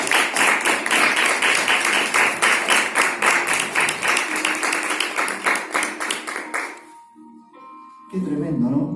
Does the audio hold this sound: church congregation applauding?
yes